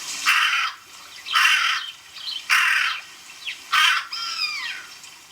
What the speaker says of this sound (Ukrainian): Між собою ворони розмовляють за допомогою так званого перекаркування.